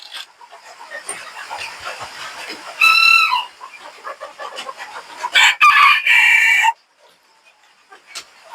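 Japanese Shamo chickens of the smallest type, about eight months old, cluck and chatter close by, broken by several loud, harsh crows that stand out above the steady flock noise.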